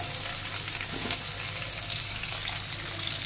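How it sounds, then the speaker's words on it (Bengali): Capsicum and onions fry with garlic in a pan for chilli potato, a steady close sizzle with stirring scrapes running throughout. "ক্যাপসিকাম আর পেঁয়াজগুলোও দিয়ে দিচ্ছি"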